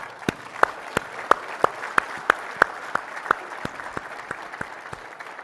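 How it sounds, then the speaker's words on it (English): Steady, evenly spaced claps, about three per second, sharp and fairly close, with no voices over them. "let's applaud their effort, for the work that is made"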